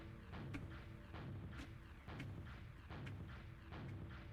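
Video game explosions on the jump_naught map sound as faint, muffled booms repeating at a quick, uneven rhythm, roughly twice per second, over a steady background. No one speaks.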